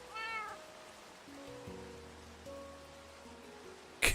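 A Minecraft cat meows in-game, a few short faint mews over soft background game tones and ambience.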